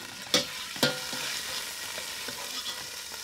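Goulash meat and onions frying in hot fat, a steady moderate sizzle with a couple of sharp clanks and light stirring scrapes near the start, no talk.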